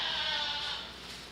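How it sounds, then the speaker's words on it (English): Several goats bleat together in a county fair show ring during a middleweight class of 75 to 80 pound animals, a dense, continuous chorus of overlapping calls with no talk. "Nine goats in this class."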